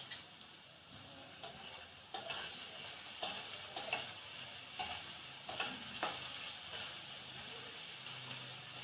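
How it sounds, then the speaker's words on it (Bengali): Garlic and chopped tomatoes fry quietly in a pan with a soft continuous sizzle, broken by a series of sharp clinks and scrapes from a stirring utensil at irregular intervals. "একবার নাড়িয়ে নেব।"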